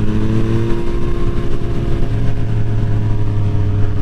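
A motorcycle engine idles loudly and close by, a steady low throbbing rumble with no talking.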